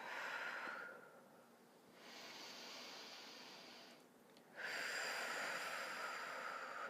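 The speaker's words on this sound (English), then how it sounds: "we're going to just take a few breaths here" Slow, deep breaths taken while seated tall during a yoga session for low back pain, each long airy inhale and exhale rising and falling softly and close, with pauses between and no talking.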